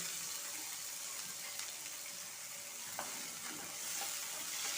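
Finely chopped shallots and tomato are sautéed in a pan for sago biryani, making a soft, continuous frying sizzle with light stirring scrapes and one sharp clink.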